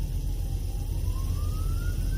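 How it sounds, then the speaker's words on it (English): An emergency vehicle siren on the Las Vegas Strip wails as a single slowly rising tone, moderately distant, over a steady rumble of street traffic. "And then now I'm hearing a siren."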